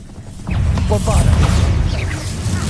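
The Bombarda blasting spell goes off in Hogwarts Legacy, a sudden loud crash and rumble that starts partway in and rolls on with clattering debris, with some voice-like sounds layered over it.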